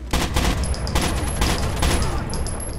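Loud, rapid automatic gunfire in Rainbow Six: Vegas rattles in dense, continuous bursts close by, with faint mechanical whines over the shots.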